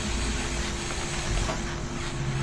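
A steady engine drone hums from a small level 2 engine on a vehicle built in the video game Scrap Mechanic. It runs evenly and fairly loud for a couple of seconds, with no talk over it.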